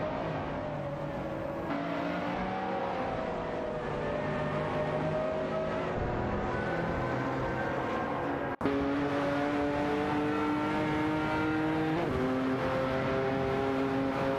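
Race cars roar continuously in a racing video game, including a Ferrari and a Chevrolet Camaro, with layered engine tones rising and shifting as cars jostle for position, loud and steady throughout without speech.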